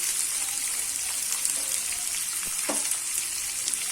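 Onion sautés in a pan with green chilli, ginger and curry leaves, giving a steady, even sizzle throughout, close and moderately loud, with a single faint scrape and no speech.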